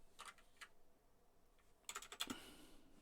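Short bursts of keystrokes on a computer keyboard while coding a PHP framework, two quick clusters of clicks separated by a quiet pause, close and fairly soft, with no talking.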